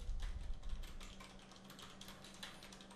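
Fingers type on a computer keyboard in a quiet, steady patter of rapid, light key clicks, close by, with a low hum underneath and no talking.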